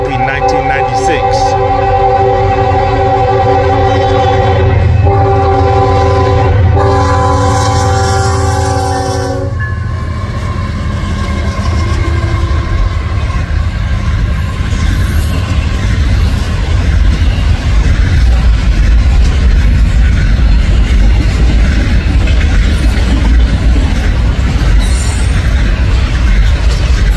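Union Pacific double-stack freight train UP 1996 rolls by close and loud with a long blaring horn chord for the first ten seconds, then a steady roar and rumble of wheels and cars, with voices faintly underneath.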